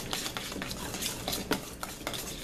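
A utensil stirs Swedish meatball mixture seasoned with allspice in a bowl, with repeated soft scraping and clinking strokes in an uneven rhythm, close and moderately loud with no talk.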